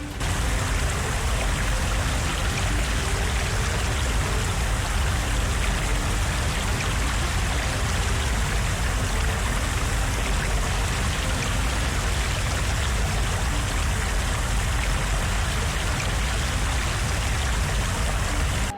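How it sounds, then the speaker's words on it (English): Flood water rushes through streets in Italy as a steady, loud roar of churning water that holds constant from start to finish, with no voices. "A relentless flood turns the streets of Italy into raging rivers, swallowing everything in its path."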